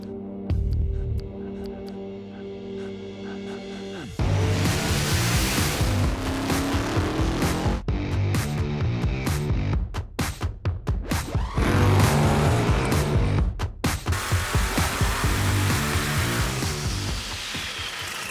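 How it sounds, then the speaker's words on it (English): Supercharged small block Chevrolet engine in a 67 running on a dyno, rumbling at idle before revving hard into a loud, sustained roar with repeated throttle blips and pulls, close and dominant throughout. "We are dynoing this small block Chevrolet supercharged 67."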